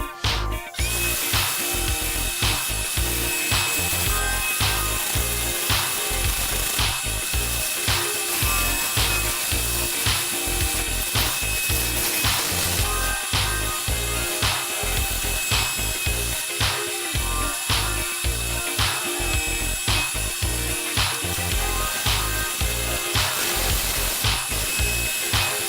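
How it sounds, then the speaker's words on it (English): A power sander works a wooden root sculpture at about 500 RPM, giving a loud, continuous motor drone with rapid rhythmic scuffing and catching throughout. "now I'm going to start sanding"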